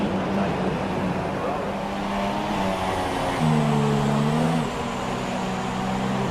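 Formula 1 car engine in the F1 2017 racing game holding high revs at the race start, a steady droning whine with harmonic layers that steps up in pitch midway, continuous and loud with faint voice underneath.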